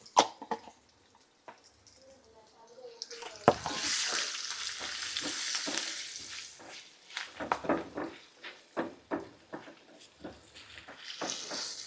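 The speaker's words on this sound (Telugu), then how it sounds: "మంచిగా కరివేపాకు బాగా వేగనిద్దాము ఉల్లిపాయలు కొంచెం బ్రౌన్ కలర్ రానిద్దాము" Curry leaves and onions frying in a pan for ivy gourd chutney, with a steady close sizzle swelling loud after a few seconds and repeated stirring scrapes knocking through it, alone without talk.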